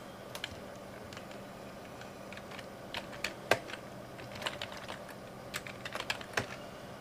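Keys on a computer keyboard being typed in scattered bursts, some sharp louder clacks around the middle and toward the end, close and alone with no voices.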